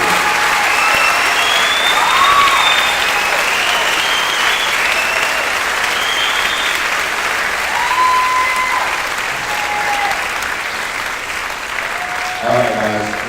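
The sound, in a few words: round of applause for 8th grade class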